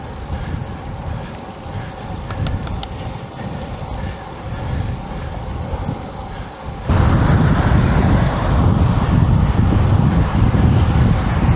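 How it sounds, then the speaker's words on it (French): Loud, continuous crosswind buffeting a microphone on a moving bicycle, a constant roar that jumps louder partway through. "Vent de côté légèrement défavorable."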